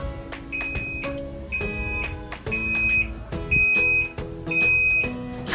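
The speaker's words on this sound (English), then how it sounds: "meron kami magiginig na beeping sound to notify us kapag tapos na yung washing cycle" A Condura Aquacare top-load washing machine sounds its end-of-cycle alert: a series of five clear, repeated electronic beeps evenly spaced over several seconds, fairly close, with faint household clatter in the background and no talking.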